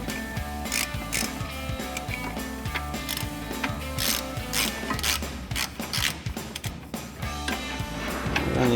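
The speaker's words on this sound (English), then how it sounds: "we'll grab our regular ratchet and 22mm socket. We'll run these out." Ratchet with a 22mm socket clicking rapidly and steadily as brake caliper bolts are run out on a 2019-2024 RAM 2500 truck, close and continuous with no talk.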